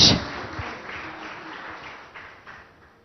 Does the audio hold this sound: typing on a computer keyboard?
no